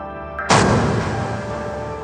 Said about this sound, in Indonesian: Dentuman meriam menghantam barak logistik.